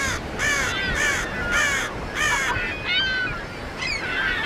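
Harsh, repeated cawing calls of seabirds at coastal nesting cliffs and small islands off Peru, loud and close, in a steady series of about seven calls with no talk.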